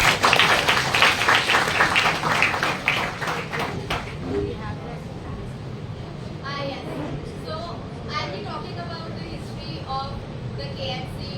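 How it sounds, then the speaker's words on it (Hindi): Loud, dense applause from a college orientation audience fills the first few seconds, then fades into scattered claps as a voice begins speaking over the room. "तो एक बार जोरदार तालियां हमारे साथियों।"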